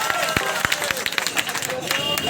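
Spectators at a bhajan competition in Seoni Malwa give scattered, uneven clapping amid crowd murmur and a speaking voice.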